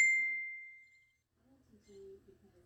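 A single bright phone notification ding rings out clearly at the start and fades over about a second, followed by soft background sounds.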